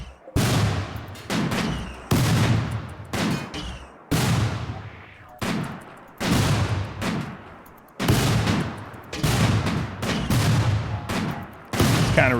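Rapid bursts of video game gunfire, about seven heavy volleys of automatic shots each lasting roughly a second and a half, loud and close with short gaps between them, no talking.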